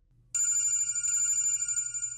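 A telephone bell rings close and clear in a quiet room, starting abruptly and holding a bright continuous trill for about two seconds.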